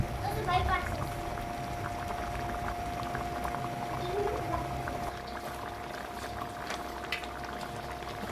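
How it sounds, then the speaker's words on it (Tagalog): Ladog snails simmer at a steady rolling boil in a pot of soup for the Ilocano dish liddeg, a continuous close bubbling and gurgling with no pauses. "Pakuluin pa natin para talagang luto na rin."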